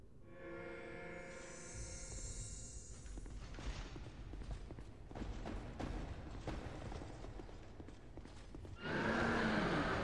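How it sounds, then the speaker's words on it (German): A horse whinnies loudly at the start in the video game Dark Souls 2, followed by clopping hooves and mechanical creaks, ending in a burst of broadband noise. "Pferdchen!"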